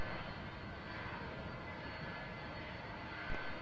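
A heavy Boeing 747 jet departs, a distant, fairly faint broadband roar that holds steady the whole time with no voices over it.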